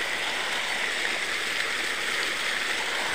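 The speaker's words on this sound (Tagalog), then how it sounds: "mayroong maliit na talon dyan, maliit na talon" A small waterfall at Busay cave, a steady close wash of falling water with even broadband hiss and no voices.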